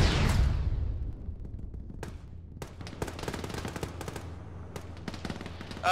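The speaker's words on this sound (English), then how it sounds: "Firing southeast." Heavy gunfire in the military video game Arma, with a loud opening burst followed by sustained distant automatic fire and scattered sharp shots, rattling on with no voices.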